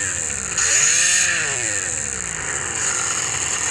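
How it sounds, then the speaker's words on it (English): A synthesized chainsaw engine from an Android sound app buzzes continuously, its pitch rising and falling as it revs, loud and close with no talking. "there's this chainsaw sound"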